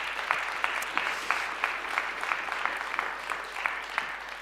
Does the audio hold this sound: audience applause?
yes